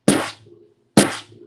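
Two sharp, bright drum strikes about a second apart, each ringing briefly with a jingling metallic shimmer before fading.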